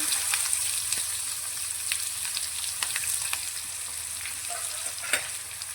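Coarsely cut onions with white sesame seeds sautéing in a pan over a medium gas flame, a steady close sizzle with occasional stirring scrapes and pops, with no talking.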